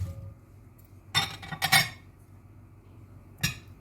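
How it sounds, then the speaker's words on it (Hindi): A spoon clinks and scrapes against a mixing bowl as chopped bananas, apples, chickpeas, potatoes, vegetables and onions are stirred together, in a few short clattering bursts, close and clear with no talking. "तमाम चीज़ों को एक मिक्सिंग बाउल में डाल लेंगे और अच्छी तरह मिक्स कर लेंगे।"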